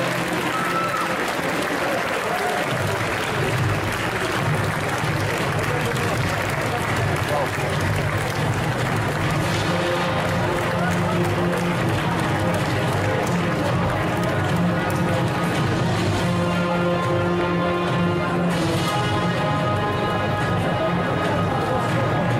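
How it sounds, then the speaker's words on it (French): Audience applause at a Sunday cosplay contest during an indoor festival, sustained and loud throughout, with a dense crowd roar, music and voices mixed underneath. "Je vais vous demander de faire un tonnerre d'applaudissements pour la fée sorcière de la forêt qui dort"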